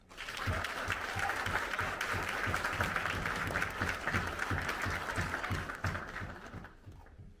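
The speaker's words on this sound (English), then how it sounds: "give yourselves a big hand clap for being here" A conference crowd applauds to welcome Pastor Mark Burns, a full, sustained burst of clapping from many people that swells, holds steady for several seconds and then tapers off.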